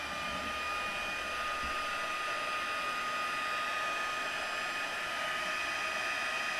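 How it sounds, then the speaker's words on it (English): Heat tool melting white embossing powder on a stamped birthday card gives a steady, even airy blowing roar, moderately loud and constant throughout with no voices. "bring in my heat tool"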